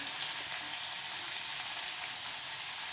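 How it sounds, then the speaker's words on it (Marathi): Fresh grated potato chips fry in hot oil in a kadai over a gas flame, giving a steady, dense sizzling hiss that holds close and even throughout with no pauses. "कढईमध्ये तेल टाकलं आता तेल गरम झालेलं आहे तर मी त्याच्यामध्ये हे चिप्स टाकून देते"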